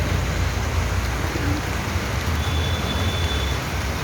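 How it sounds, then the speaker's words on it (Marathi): Rain falls steadily in a dense, even hiss that is moderately loud and continuous, with a faint low rumble beneath it. "अरे पठाला गेली पण पाऊस आला का. पाऊस पडतो."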